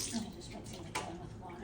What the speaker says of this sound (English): You're putting water in there?